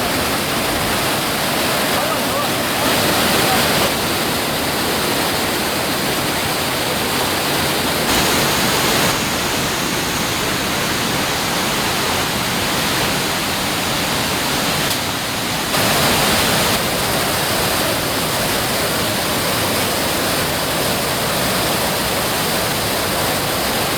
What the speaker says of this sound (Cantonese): 哇！ 好犀利，今日好大水。